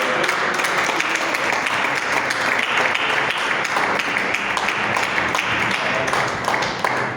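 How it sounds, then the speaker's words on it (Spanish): A church congregation applauds during a Spanish-language service, producing a loud, sustained roar of clapping that blends into a thick, steady wash with some crowd voices mixed in. "Dale un fuerte aplauso al Señor."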